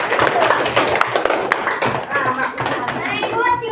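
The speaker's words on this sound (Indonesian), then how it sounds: "kasih dulu tepuk tangan kita semua" An elementary class claps hands, a lively flurry of close claps and taps layered with children's chatter and voices throughout.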